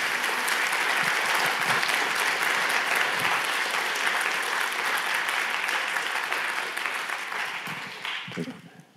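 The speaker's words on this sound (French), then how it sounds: "sous vos applaudissements, s'il vous plaît, je vous prie d'accueillir Rhys" At a French public event, the audience gives sustained, full-room applause to welcome cartoonist Riss, the clapping holding steady before gradually fading out near the end.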